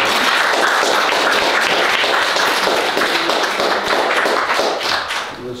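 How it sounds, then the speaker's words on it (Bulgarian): Dense audience clapping in an indoor room, loud and steady throughout, with hands striking in a rapid crackling wash that eases slightly at the end. "Моля за вашите аплодисменти."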